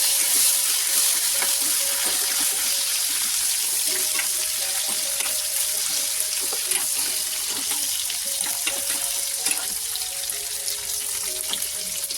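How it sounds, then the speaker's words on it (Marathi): Bitter gourd sautéing in a pan with a pinch of asafoetida, a loud, steady sizzle with faint stirring scrapes, close and unbroken throughout. "हे कारले टाकून छान परतून घेते"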